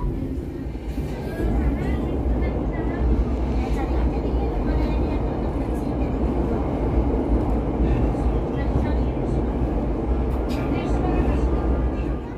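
The Ciremai passenger train rumbles straight through Sasaksaat station in Indonesia without stopping, deep steady rolling of wheels on rails with faint metallic squeals, loud and close for the whole stretch.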